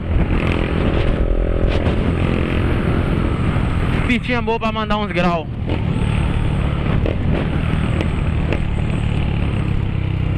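A motorcycle engine drones steadily and loudly throughout a ride along a small track, with a brief rising rev in the middle while the rider talks over it.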